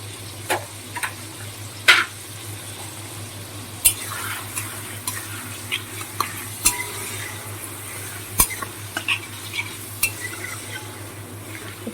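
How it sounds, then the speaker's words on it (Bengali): Mutton liver pieces fry in oil with salt and turmeric, a constant low sizzle beneath repeated spoon stirs and sharp metallic ticks against the pan at irregular intervals. "মেটেগুলো একদম তেল ছেড়ে গেছে খুব সুন্দর করে ভাজা হয়ে গেছে"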